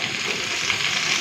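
Bitter gourd and potato pieces frying in hot mustard oil, a steady close sizzle and crackle with no voices.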